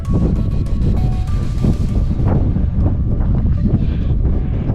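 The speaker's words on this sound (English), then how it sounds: "Sorry if it's windy." Heavy wind buffets the microphone on a mountain route in the San Juan Mountains, producing a loud, continuous low rumble with gusty swells throughout.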